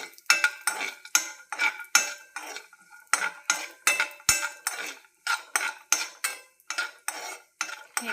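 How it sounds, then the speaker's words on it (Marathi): A cup of cashews roasting in a pan is stirred steadily, with loud, rhythmic scraping strokes repeating about twice a second, close and alone. "आता मी ह्यामध्ये 1 वाटी काजू घालत आहे। काजू पण गोल्डन ब्राऊन होईपर्यंत भाजून घ्यायचा।"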